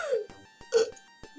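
A voice imitates coughing and gasping for air with two short rasping, throaty bursts separated by silence, interrupted by a few sharp clicks.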